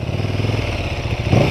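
A motorcycle engine revving as the rider takes off fast with a little power wheelie, a steady throbbing drone that rises and swells louder near the end, with no talking.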